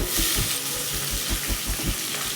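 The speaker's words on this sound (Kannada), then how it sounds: "ಈರುಳ್ಳಿ ಸ್ವಲ್ಪ ಬ್ರೌನ್ ಬರೋ ತನಕ ಫ್ರೈ ಮಾಡಿಕೊಂಡ್ರೆ ಸಾಕು" Sliced onions, two medium ones, frying in hot oil in a pan, a steady close sizzle with soft rhythmic stirring scrapes every fraction of a second.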